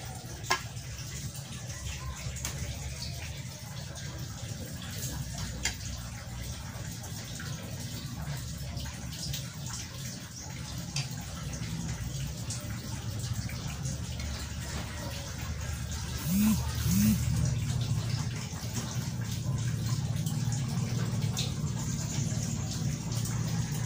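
Water mixed with cornstarch is poured and sloshes while making ube malagkit turon with cheese, a fairly quiet, ongoing liquid trickle and bubbling that grows a little busier toward the end.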